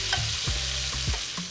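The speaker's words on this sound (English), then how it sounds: "We got this hot pan going again. Put a ton of butter." Kimchi fries in a ton of butter in a hot pan, with a continuous loud sizzle and brief stirring scrapes throughout, no talking.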